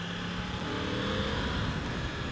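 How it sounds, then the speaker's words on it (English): A 2016 Yamaha R1S motorcycle engine on its stock muffler holds a steady, loud, dense drone close by throughout, with no speech. "it sounds pretty good with a stock muffler, I gotta say"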